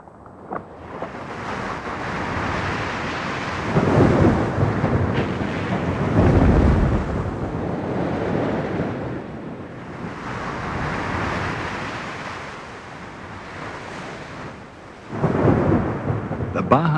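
Heavy Pacific Ocean surf pounds the southern cape of the Baja Peninsula, a loud, continuous roar that swells and recedes in several broad surges over the stretch, with nobody talking.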